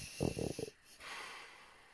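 A voice imitates a large monster snoring, giving a few short rasping snorts and then a long breathy exhale, close and fairly quiet.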